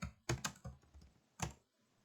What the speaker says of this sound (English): I'll try to type a little slower here.